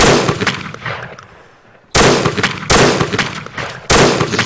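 Heavy gunshots in the video game Arma 3 boom in bursts, several sharp blasts with dense rattling fire between them, loud and close, with a short quieter gap early on.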